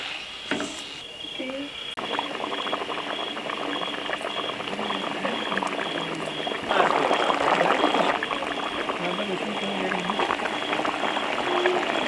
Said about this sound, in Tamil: ஸோ அப்படியே கோகோனட் மில்க் ஆட் பண்ணதுக்கப்புறம் மிக்ஸ் பண்ணணும்.